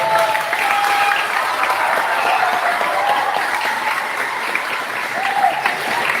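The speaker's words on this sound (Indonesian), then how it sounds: "Berikan tepuk tangan untuk beliau." Loud, sustained applause from a school audience honoring the outgoing principal at a high school handover ceremony, a dense wash of clapping with a few faint tones mixed in.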